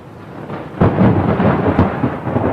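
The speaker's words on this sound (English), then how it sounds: "Dark skies flash with blue-green lightning in the howling winds and pelting rains of the hurricane." A hurricane storm roars with heavy pelting rain and broad, rumbling wind gusts, loud and continuous, with a sudden surge partway through.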